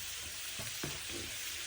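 Chillies sautéing in a pan give a constant bright hiss, with a few soft stirring knocks around the middle, steady and moderately close, no talking.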